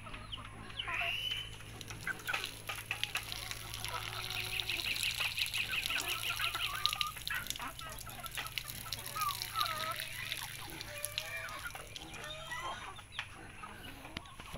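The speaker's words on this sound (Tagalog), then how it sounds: "yung ating mga manok, mga pato. Halo-halo na sila dyan" Backyard chickens and ducks of mixed flocks cluck and call in a steady stream of near and mid-distance sounds, with a person talking intermittently over them.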